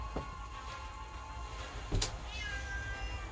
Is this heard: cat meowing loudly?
yes